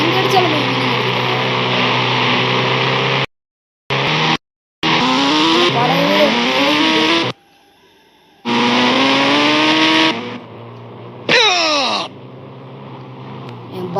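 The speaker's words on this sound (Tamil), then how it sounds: "பைக்கு ஆக்சிடென்ட் ஆச்சு." A motorbike crashes in a game, with engine drone, rising whines and sharp tyre skids broken up by abrupt gaps, a few loud screeching bursts toward the end.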